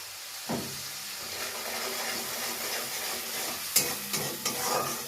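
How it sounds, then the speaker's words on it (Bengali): Ground spices with turmeric and red chili powder frying in hot oil for a Bengali pointed gourd curry, a soft steady sizzle with a few scrapes and knocks of a spatula against the pan, close by. "2 মিনিট একটু ভেজে নিই মশলাটা।"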